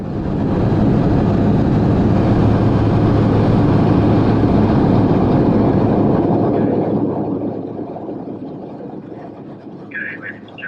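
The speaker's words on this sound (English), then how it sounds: "the cabin became extremely loud, more than usual" Loud, roaring cabin noise inside an airliner cruising at low altitude on an inaugural flight, a steady dense rumble that eases somewhat toward the end, with no talking.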